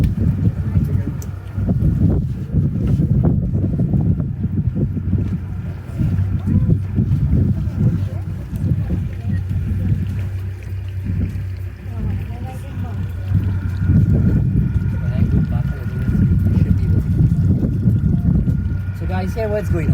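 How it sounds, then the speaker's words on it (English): Boats approaching together on water at a bird sanctuary, heavy low engine and wind rumble with splashing surges, loud and continuous while people talk over it. "All the boats are coming in a rush."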